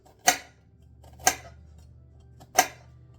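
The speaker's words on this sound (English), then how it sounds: "So we're going to cut this onion, slit it on the side, 3 slits" A knife slicing through an onion onto a cutting board, three separate crisp chops spaced about a second apart, close and clear against a quiet background.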